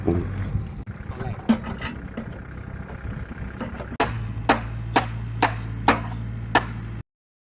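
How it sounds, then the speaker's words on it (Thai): A diesel engine set up to pump water out of a fish pond: a steady low mechanical drone settles in partway through, punctuated by about six sharp knocks at regular intervals, with voices and rustling before it. "เนี่ยวิธีการตั้งเครื่องสูบปลาครับพี่น้อง เติมน้ำมันใช่ได้ครับ เครื่องนี่เครื่องดีเซลได้ครับ"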